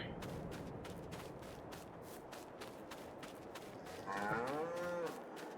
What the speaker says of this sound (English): Pretty vocal cows